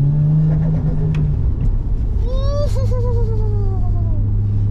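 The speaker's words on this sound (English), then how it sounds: "And now, we're cruising. Driving, stick, shifting. Brand new gearbox, brand new clutch." A car with a 1JZ engine, stick shift, new gearbox and new clutch cruises along, its steady engine drone loud and close as revs climb and fall through a gear change, alongside a constant interior rumble.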